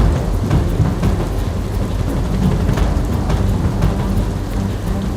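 Heavy monsoon rain pours down across flooded Bhabhar in Gujarat, a loud, dense, unbroken hiss and patter with no voices.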